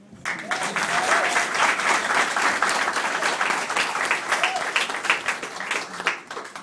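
Loud, sustained applause from a sizable crowd at a wedding ceremony led by a mayor, dense clapping filling the space for several seconds before tapering off at the end.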